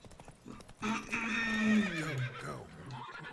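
Roach, Geralt's horse in The Witcher 3: Blood and Wine, lets out a loud, long whinny that wavers and falls in pitch, with soft hoofbeats before and after.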